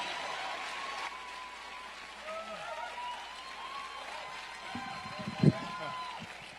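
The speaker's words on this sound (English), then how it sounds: "So give it up for Jeremiah" Crowd applause at an outdoor Green New Deal rally, a steady spread of clapping heard at moderate distance with voices mixed in and a sharp knock near the end.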